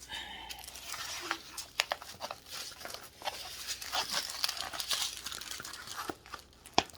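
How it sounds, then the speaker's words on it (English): Plastic packaging of a Rick and Morty diamond painting kit crinkles and rustles close up in irregular bursts, with scattered sharp crackles and a brief tearing quality throughout. "the crinkling is going to drive you people nuts"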